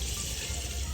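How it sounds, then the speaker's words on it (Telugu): Water pours steadily into a cooking pot for a short, continuous gush, fairly close and alone. "ఇంకొక చెమ్మంతా నీళ్ళు పోసుకున్నాం"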